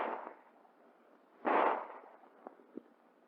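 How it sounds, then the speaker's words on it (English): Colt 1911 handgun fired at targets: one loud, sharp report with a short ringing tail, followed by two fainter distant pops, recorded with a muffled, old-film quality. "A burst of 2 shots assures at least 1 hit."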